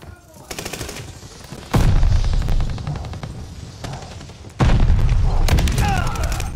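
Call of Duty Vanguard multiplayer battle with two heavy booming blasts, the first near two seconds and the second a few seconds later, amid rattling gunfire bursts, loud and close.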